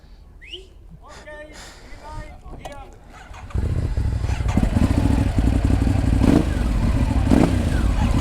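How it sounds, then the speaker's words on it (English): Quiet talk and a clatter give way to a Ducati Hypermotard 950 with an aftermarket exhaust roaring to life, then idling and revving loudly and steadily nearby. "it sounds very, very naughty. You can tell the engine spins quicker."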